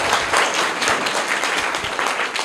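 Audience applause for children who gave a correct answer at a school quiz competition, a steady dense wash of many hands clapping at moderate level throughout, no voices.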